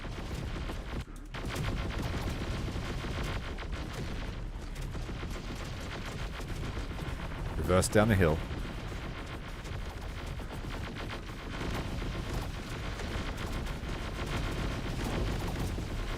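Dense, continuous gunfire and explosive rumble roar through a Terminator Dark Fate Defiance battle, with a louder burst near the middle. A voice gives a brief command over the din.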